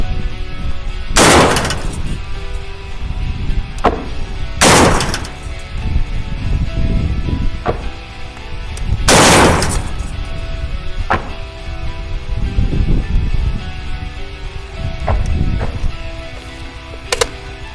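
A captured AGS-17 automatic grenade launcher fires heavy, booming shots one at a time at irregular intervals, with mechanical clanks and scraping between them, including a bolt jamming in the rear position; loud and close, no talking.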